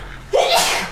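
A single sharp sneeze bursts out nearby, a quick breathy intake followed by a hissing explosive release.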